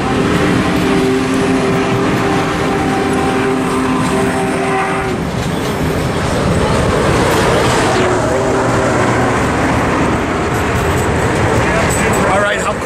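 Union Pacific 4014 steam locomotive racing down Cajon Pass, a loud continuous rushing roar of the train mixed with road and wind noise, while people chat excitedly over it.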